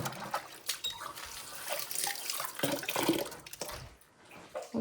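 Running water rinses suds out of a soapy coffee knock box, a steady splashing and trickling rush that shifts in intensity, with no one talking.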